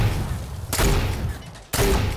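Video game gunfire: two sharp, loud bursts of shots, about a second apart, over a steady background noise, with no talk.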